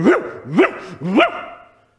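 A voice imitates a dog barking, three quick woofs in a row, close and fairly loud, with the last one trailing off.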